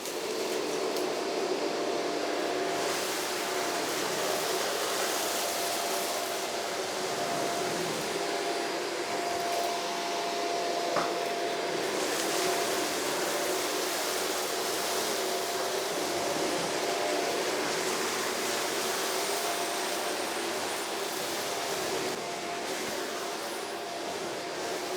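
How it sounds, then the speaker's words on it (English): A Shark NV602UKT upright vacuum cleaner runs continuously over a floor with a steady, broadband motor whoosh and airflow roar at constant loudness, with no talking. "Now I'm using the cleaner"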